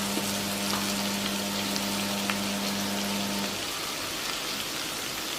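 Ingredients for atukula upma frying in a pan, a steady dense sizzle that continues throughout, with a faint constant hum underneath.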